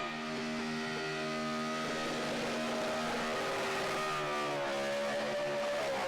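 A high-revving Mopar car engine screams continuously during a burnout at Sydney Dragway, pitch rising and holding at a loud, sustained peak near 9,600 RPM with harsh, gritty roar.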